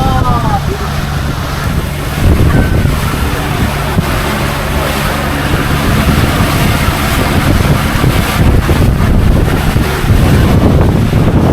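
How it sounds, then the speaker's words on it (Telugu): Strong gusting wind at Laknavaram Lake roars loudly and continuously against the microphone, with water and lakeside background beneath, and people talking faintly through it. "దారుణమైన గాలి వస్తుంది."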